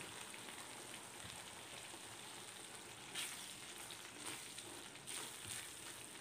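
A little water hits spice masala frying in a pan for paneer lababdar, giving a soft, steady sizzle with a few sharper hissing bursts partway through. It is quiet and close, with no talking.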